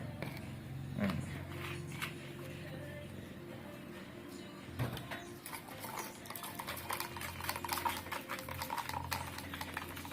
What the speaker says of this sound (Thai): คนๆให้เข้ากันกับน้ำนะครับผม